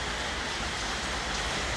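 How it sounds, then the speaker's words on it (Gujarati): Steady rain falling, a continuous even hiss of drops without pause. "વરસાદ ભાઈ ચાલુ થઈ ગયો છે"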